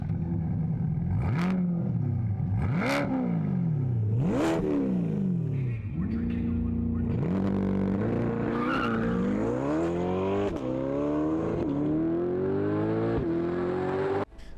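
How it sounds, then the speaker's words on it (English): Straight-piped Corvette C8 with a Paragon exhaust in a video game, revving repeatedly in loud rising and falling sweeps, then climbing through gears in a long sustained pull, with tire squeal mixed in. "I had a straight piped C8."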